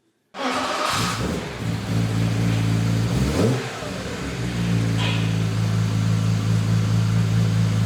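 A modified Ferrari Enzo engine roars to life and revs hard, dipping briefly before climbing again into a loud, sustained growl close by.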